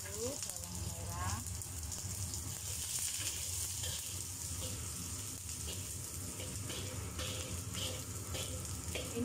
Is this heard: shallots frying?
yes